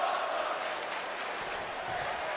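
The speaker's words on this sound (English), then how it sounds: "there you hear the CCW crowd" A steady, dense crowd roar from an arena audience in the wrestling video game WWE 2K, continuous and fairly loud throughout with no pauses or distinct individual voices.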